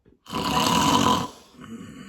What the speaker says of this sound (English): I snore.